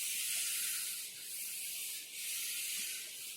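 Writing is rubbed off a classroom board with a duster, giving a close, steady hissing scrub in a few long back-and-forth strokes with brief dips between them, and no one speaking.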